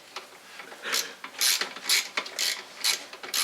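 A ratchet tightening bolts during transmission reassembly gives short bursts of clicking at close range, several separate runs with brief pauses between them and no voice over them.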